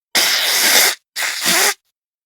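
Two forceful nasal blows from someone congested, the first lasting nearly a second and the second slightly shorter, both loud, close and breathy with no talking.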